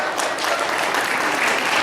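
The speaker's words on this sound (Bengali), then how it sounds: "জোড়া হাততালি একটু" Audience applause at a school event, a steady, fairly loud patter of many hands clapping without a break.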